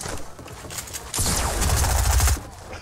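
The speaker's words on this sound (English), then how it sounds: "that was the worst shotgun shot" Gunfire in a video game, a dense burst of shotgun blasts lasting over a second, loud and close, with quieter game noise before and after.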